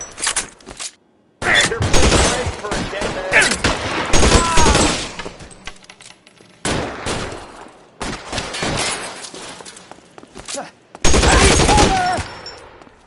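Gunfire in the video game L.A. Noire, bursts of rapid shots and a machine-gun fusillade in loud clustered volleys with short gaps, mixed with some voices.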